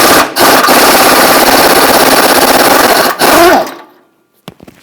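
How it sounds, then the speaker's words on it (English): A power tool with a 15mm socket spins off exhaust Y-pipe nuts on a 1998-2011 Ford Ranger 3.0L V6: a loud close rattling buzz in two bursts, then stopping abruptly. "it's a 15mm socket. And we're just going to take these nuts right off"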